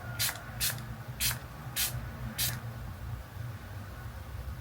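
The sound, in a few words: setting spray being sprayed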